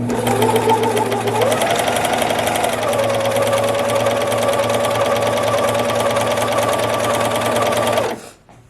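A Brother 925D lock serger runs continuously while sewing fabric, giving a loud, steady, rapid mechanical whirring hum that stops abruptly near the end.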